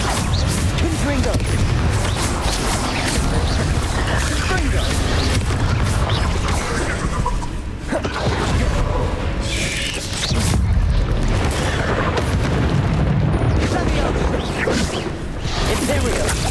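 Confringo fire spells blasting in the video game Hogwarts Legacy, repeated booming explosions and crashes in the midst of combat noise, with a voice talking throughout.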